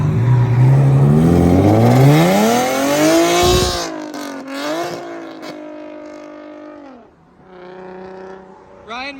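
Infiniti G37 with a Tomei Expreme Ti exhaust and test pipes accelerating hard, a loud rising engine howl that cuts off abruptly on a missed shift into second gear, then revs again and fades as it pulls away, with voices around it.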